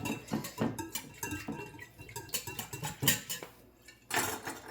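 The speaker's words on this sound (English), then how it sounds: "So now we just whisk it together." Lemon loaf cake batter is whisked in a bowl, giving quiet, irregular metallic clinks and scrapes against the sides.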